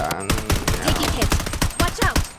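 Rapid bursts of gunfire from the online shooter game Blood Strike, sharp repeated shots in quick clusters at moderate level, mixed with game effects.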